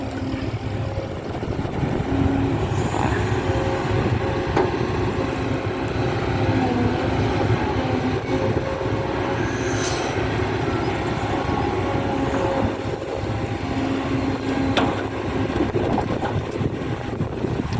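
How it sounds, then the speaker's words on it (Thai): A Kobelco SK200 Super X-M excavator with a Hino engine runs steadily at a distance, a continuous low droning hum mixed with wind noise, with occasional faint higher whines. "อยู่กับโกเบลโก้นะครับ เอทเคสองร้อย ซูเปอร์เอ็กเอ็มนะครับ ใส่เครื่องยนต์ฮิโน่พี่น้อง"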